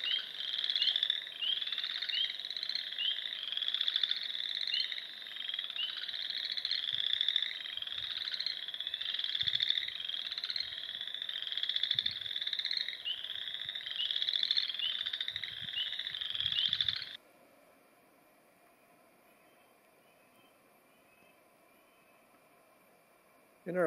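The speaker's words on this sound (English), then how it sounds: "a little stop to listen to the frogs" A chorus of frogs croaks in steady, overlapping pulses at a marsh, loud and continuous for most of the stretch before cutting off abruptly into near quiet.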